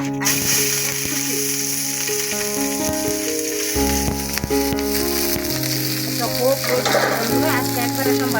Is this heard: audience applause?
no